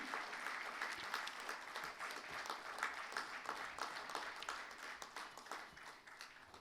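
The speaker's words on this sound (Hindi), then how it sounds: "आपकी जोरदार तालियों के बीच में ये MOU एक्सचेंज।" An audience at an inaugural business session applauds during an MOU exchange, a sustained crowd clapping with rapid overlapping hand claps, moderately distant and steady throughout.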